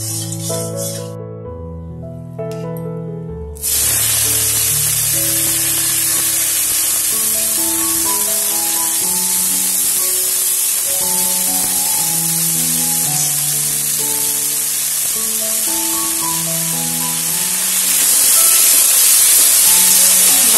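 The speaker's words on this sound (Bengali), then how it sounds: "প্রথমে ফুলটাকে ভেজে নেব" Yukti flowers being fried in a little oil in a Bengali village kitchen, a steady loud sizzle and hiss that jumps up suddenly after a quiet start and holds on with slight swells.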